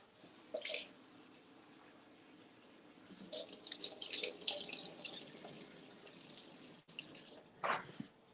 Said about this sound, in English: So let's rinse these off.